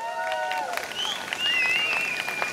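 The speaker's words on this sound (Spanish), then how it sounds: "Un fuerte aplauso para él," Audience applause at a live festival magazine broadcast in Valladolid, a brief burst of clapping heard under and after a presenter's voice.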